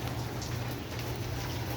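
Rain falling on cardboard outdoors during a pickup of scrap goods, a steady dense patter of drops close by with no voices.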